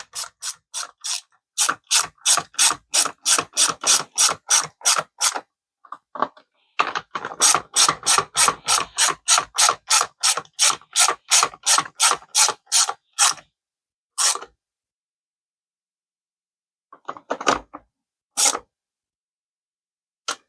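A hand ratchet clicks in fast, even bursts while bolts on a STIHL MS180c chainsaw carburetor are tightened, with long runs of crisp clicks, a pause, then a few scattered clicks at the end.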